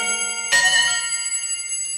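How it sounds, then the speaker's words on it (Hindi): A single metal bell, such as a temple bell in a devotional story, strikes once sharply and then rings out with a long, clear, slowly fading tone. "उसी समय घंटी बज उठी"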